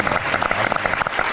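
Audience applause breaking out at a live TV show for the Erisioni dance ensemble, a brief dense burst of many hands clapping, close and steady.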